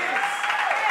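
Audience applause at the close of a comedy set, a brief dense burst of clapping heard steadily throughout.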